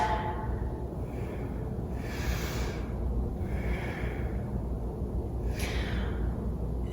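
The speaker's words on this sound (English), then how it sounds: "Diaphragmatic breaths." Slow, deep diaphragmatic breathing during a core workout: three long airy breaths, each swelling and fading, heard close over a steady low room background with no talking.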